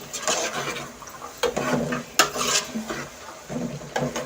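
Aloo matar pulao ingredients frying in a pan while a spoon stirs them, giving repeated scraping clatters of utensil against metal over a low sizzle, close and fairly loud, with no talking.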